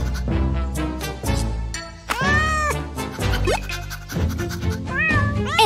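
A cat meows several times, clear rising and falling cries over cheerful children's music, close and prominent.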